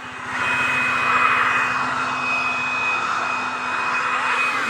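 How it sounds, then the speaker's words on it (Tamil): A vehicle drives past on a road, its broad steady engine and road roar holding at a fairly loud, constant level throughout with no voices over it. "வண்டி வருது"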